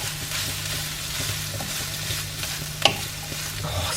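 A spice mix with oregano stirred in a pan for Mexican-style beef loaded wedges, a steady close sizzle with soft scraping and one sharp clink of the utensil against the pan.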